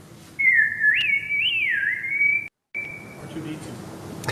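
A robot droid's electronic beeping and warbling whistle in the style of R2-D2 chirps in rising and falling sweeps, fairly loud and close, broken by a brief dropout before a softer trailing tone.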